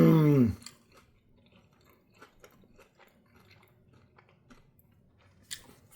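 After a short voiced murmur, someone chews a bite of Roberta's margherita pizza crust up close, with soft, irregular crunching and moist mouth sounds, fairly quiet, and a sharper crunch near the end.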